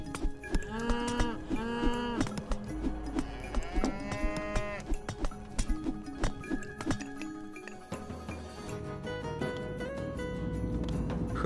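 Cattle moo repeatedly in the Age of Mythology video game, a series of close, evenly spaced lowing calls over a steady background of game sounds.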